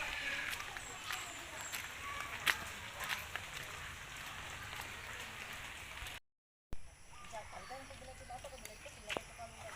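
Rain falls steadily on an outdoor surface at low level, a continuous hiss with scattered drop ticks, broken by a brief silent gap, while voices talk faintly in the background.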